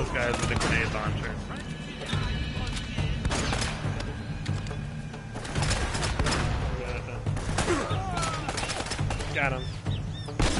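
Gunfire in an Uncharted video game with Nathan Drake: repeated bursts of shots and blasts scattered across a busy battle soundscape, with speech mixed in among the shooting throughout.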